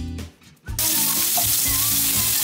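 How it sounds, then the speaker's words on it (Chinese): Butter hits a hot, smoking pan used for salmon and bursts into a loud, steady sizzle that starts abruptly after a brief quieter moment and continues unbroken. "现在开始冒烟了。 嗯。 这个时候放黄油。"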